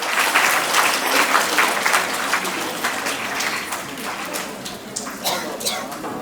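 An audience at a student merit award ceremony claps for a student who scored 90 percent, crisp, lively applause with clearly separate hand strikes, loud at first and easing slightly, with faint voices mixed in.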